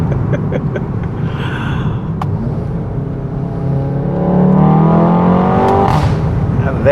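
A VW Golf 7.5 R engine pulls hard while driving, a steady low drone that climbs in pitch and swells louder toward the end, heard from inside the car with no talk.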